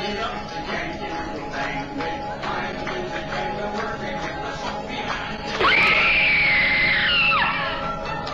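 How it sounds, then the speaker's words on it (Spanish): A single high, sustained scream rises out of a murmuring background of voices and noise at a Disney theme park attraction as the lights go down, lasting about two seconds before cutting off. "Se van las luces y se escucha un grito."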